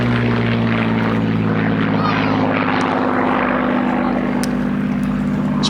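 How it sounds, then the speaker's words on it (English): A Supermarine Spitfire Mk.IX, MH434, with a Merlin engine flies at an air and car show, its steady, loud piston-engine drone holding throughout without a break. "Spitfire Mk.IX, of course, was produced in greater numbers than any other Merlin-engined Mark of Spitfire"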